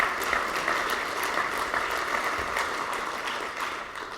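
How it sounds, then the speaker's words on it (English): Steady applause from a conference audience at a Trout Unlimited annual address, an even wash of many hands clapping at a moderate distance, with no voices on top. "So give yourself a round of applause."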